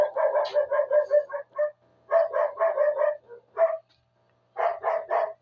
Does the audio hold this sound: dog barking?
yes